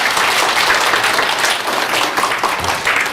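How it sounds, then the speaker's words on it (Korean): Loud, close applause from a seminar audience at a hair styling lecture on men's iron perms and down perms, a dense burst of clapping that holds steady for a few seconds with no talking. "자, 박수 한번 주시죠."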